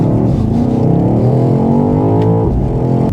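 A 2025 BMW XM Label, a 748 hp 2.8-ton luxury SUV fitted with an Akrapovic exhaust, drones loud and steady with a deep harmonic engine tone that sweeps smoothly as revs shift, then briefly dips near the end.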